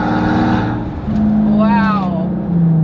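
A Maybach Exelero with a 700-horsepower twin-turbo V12 drones loudly and steadily from inside the car. The engine note shifts pitch as it pulls, and a voice speaks over the engine.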